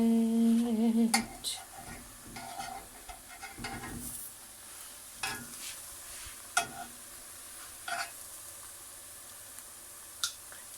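Food frying in a pan gives a steady sizzle, broken by clinks and scrapes of a utensil stirring and flipping, with a brief hum near the start.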